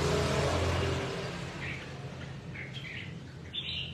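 Caged songbirds chirping, a few short, faint tweets scattered over a broad outdoor noise wash that fades after the first second.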